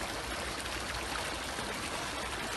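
Fresh water of a natural stream flows and trickles steadily, a continuous broadband rush close by with no voices over it.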